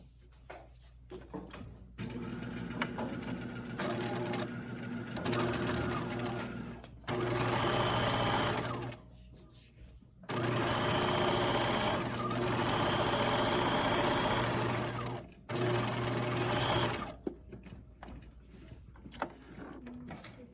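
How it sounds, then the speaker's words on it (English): Seams on a romper are sewn on a sewing machine with back tacking at each end, heard as three close, loud bursts of rapid stitching separated by short pauses and quieter handling noise. "And I'm back tacking at the end of each one."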